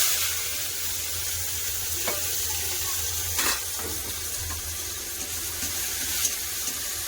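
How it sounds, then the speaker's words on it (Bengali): Black cumin, a dried chili, chopped onion and green chili sizzle steadily in hot oil, a close, even frying hiss with a few soft stirring scrapes and clinks, no talking. "ফোড়নে দিয়ে দেবো কালো জিরা একটা শুকনা লঙ্কা কেটে রাখা পেঁয়াজ আর কাঁচা লঙ্কা"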